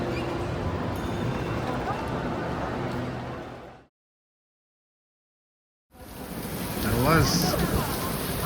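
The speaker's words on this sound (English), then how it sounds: "I think I'll wait for the rain to stop" Steady rain falls outside near the station at Strasbourg, a dense hiss that fades out and returns after a short silent gap, with speech and some clattering mixed in.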